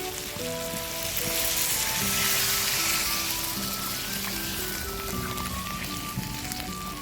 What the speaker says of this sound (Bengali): মাংস সিদ্ধ করা জলটা এবার দিয়ে দেব